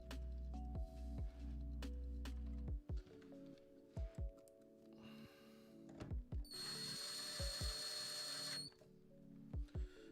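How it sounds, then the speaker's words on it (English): A DeWalt power drill driving screws during a datacenter equipment install, with repeated short whirring bursts and clicks spread across the stretch, plus a longer high-pitched run in the middle, all fairly quiet and without talk. "The reason I said don't use the DeWalt to put these in"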